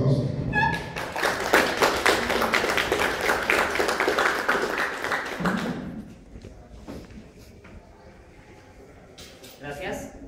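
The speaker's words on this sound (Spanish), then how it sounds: "Fuerza aplauso" Audience applause at a Christian–Islamic faith dialogue event, fairly loud clapping for about six seconds that fades out, followed by quieter room sounds and a few scattered claps near the end.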